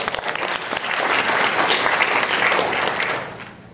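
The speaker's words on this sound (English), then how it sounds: "Please, a round of applause for" An audience applauds at a live visual demonstration, a dense, steady clapping that swells to full strength and holds before thinning out toward the end, with no talking over it.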